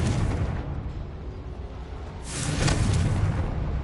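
A Confringo fire spell blasts inside a mine in Hogwarts Legacy, a broad rumbling explosion that swells to a louder burst of whooshing crackle near the end, dense and sustained.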